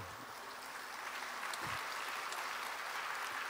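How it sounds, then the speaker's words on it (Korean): A church congregation applauds during a Sunday sermon, a steady sheet of many hands clapping at moderate volume throughout, with a brief low voice murmur near the start. "설교 시간에 박수 받기 처음입니다."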